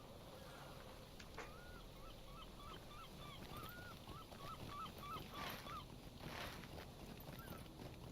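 Flock of birds honking and calling around a harbor with boats in Lord of the Rings Online, a steady run of goose-like calls over a dense, constant ambient wash.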